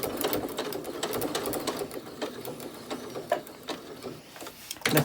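A sewing machine stitches fabric scraps for a keychain fob, with a rapid, close mechanical clatter that runs in short bursts and pauses as the fabric is turned at the corners. No one speaks.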